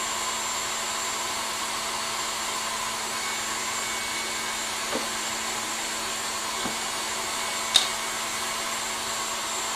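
An electric mixer whisking egg whites with vinegar for Baked Alaska, a steady whirring motor drone held evenly throughout, with a couple of faint knocks and one sharp click near the end.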